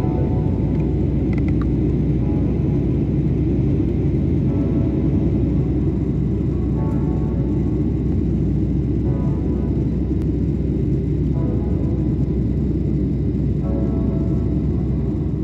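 Steady low cabin rumble inside a Qantas airliner circling at 22,000 feet in a holding pattern, a dense continuous roar of engines and airflow with a faint high hiss, constant and enveloping with no talking.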